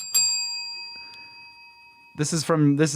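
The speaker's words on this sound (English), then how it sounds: "the bell" A single bright bell strike rings out near the start, its clear tones lingering and slowly fading, followed by voices talking.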